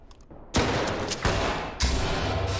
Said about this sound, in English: Oh, triggered a flashbang.